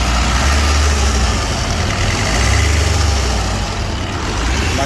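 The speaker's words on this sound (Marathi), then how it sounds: "नॉर्मल फक्त बेल्टचा जरा आवाज येते टक टक टक टक" A car engine idling during a roadside check after running slightly hot, a loud steady low rumble close by. Any belt ticking is buried in the drone and not clearly picked out.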